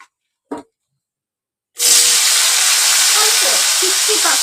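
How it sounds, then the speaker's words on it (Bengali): Okra tossed with salt and turmeric hits a hot pan after two brief soft knocks, then a loud, steady, close-up sizzle runs unbroken to the end, with faint stirring scrapes underneath. "একটু ভেজে দেবো।"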